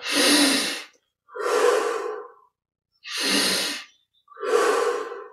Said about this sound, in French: 20 à 25 respirations profondes.